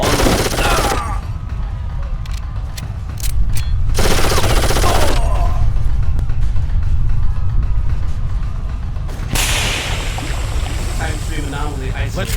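Gunfire in the first-person shooter Darkest of Days: loud bursts of rapid automatic fire alternating with quieter stretches and scattered single shots, with talk heard over parts of it.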